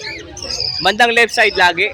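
Cockatiel at a pet market giving short repeated chirping calls up close, with someone talking over and around them.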